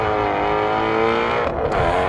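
A high-pitched engine screams at high revs and holds its note, dips briefly, then climbs again. The sound is loud, close and steady, with no speech.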